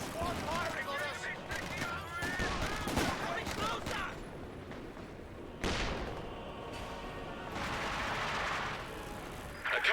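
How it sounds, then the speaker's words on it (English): Rapid bursts of enemy squad gunfire in the World War II strategy game Company of Heroes 2, dense rattling volleys layered with explosions and game narration running throughout. "Enemy squad firing on us."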